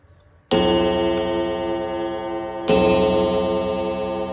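Antique French Zapi clock with a very old movement sounding loud and close: a bright metallic gong-like strike rings out, decays slowly, then a second strike follows about two seconds later. No one speaks.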